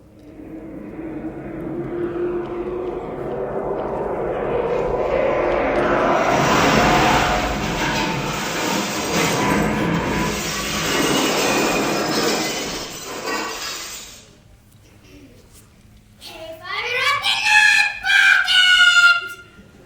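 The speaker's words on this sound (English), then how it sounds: "Prepare for landing in 5, 4, 3, 2" A spacecraft landing on the Mars surface as a sound effect: a rising, roaring rumble swells over several seconds, holds loud, cuts out abruptly, then harsh squealing, screeching tones follow.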